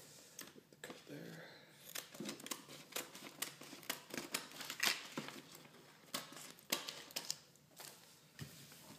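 Sharp snipping and crinkling as scissors cut a plastic bag, several quick cuts in irregular bursts, close by, with a voice speaking intermittently.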